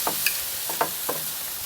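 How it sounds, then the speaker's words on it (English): Steaks seared on the top rack of a Grill Dome Kamado grill at about 400 degrees give a soft, steady sizzle with a few light clicks and taps, close by and without speech. "we're gonna go ahead and get the lid open and toss these steaks back up on this top rack"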